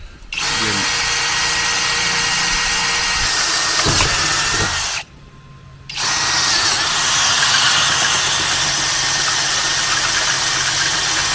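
A power drill whirs steadily and loudly, drilling holes while installing a roof rack on a Toyota Tundra, briefly cutting out for about a second before revving up again and grinding on.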